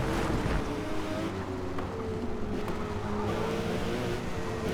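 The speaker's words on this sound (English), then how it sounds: "You can hear all the cars just slowly downshifting." Race cars in the Forza Motorsport video game, engines droning with steady tonal whines that slowly fall and shift as they downshift, mixed with a broad rushing road noise, continuous and loud throughout.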